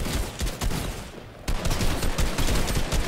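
Rapid bursts of gunfire in a video game, dense and loud, with shots overlapping into a continuous fusillade and a brief lull near the middle before the firing resumes.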